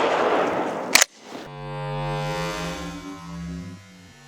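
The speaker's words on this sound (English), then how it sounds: "we're just gonna shoot the number 8 shot again at the denser gummy bear" A shotgun fires number 8 birdshot at a dense giant gummy bear: one sharp, loud blast that cuts off a steady background hum. A lower droning tone follows for several seconds.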